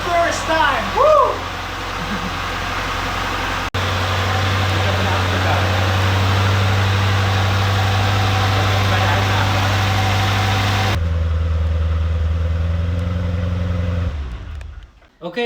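A Maserati 3200GT, being rebuilt after theft damage, cranks and fires up, then settles into a loud, steady idle up close before the engine cuts off near the end, with brief excited voices at the start.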